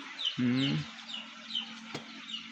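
A chicken clucks close by in a short burst, with faint birdsong and a steady hum behind it.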